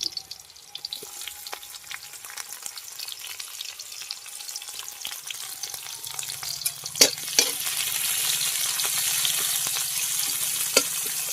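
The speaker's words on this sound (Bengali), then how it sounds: "পেঁয়াজটাকে ভালো করে ভেজে নেব।" Chopped raw onion fries in a pan of hot oil with bay leaf and green chilli, a quiet sizzle at first that swells into a loud, steady hiss partway through, with scattered clinks of stirring; no talking.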